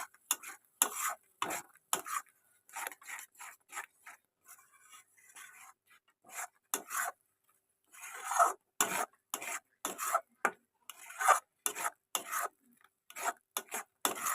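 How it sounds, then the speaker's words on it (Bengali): Pointed gourd mash being stirred and fried in oil in a pan: repeated rhythmic scraping and rasping strokes of a spatula against the pan, close and fairly loud, with a light sizzle underneath and no talking. "এটাকে আমরা আবারও ভালো করে নেড়ে নেড়ে ভালো করে ভাজবো, যতক্ষণ না এটা একটা আঠালো ভাব চলে আসছে।"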